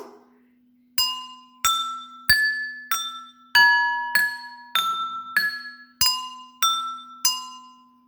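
Ten bright tones struck on glasses of different sizes one after another at a steady pace, each ringing out and decaying, pitches shifting between notes like a simple tune.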